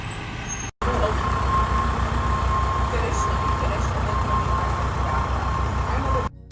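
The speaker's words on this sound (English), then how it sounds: "this garbage truck's having a standoff" Idling garbage truck stuck in an alley, its steady low engine rumble holding close and loud throughout, broken only by a brief gap near the start.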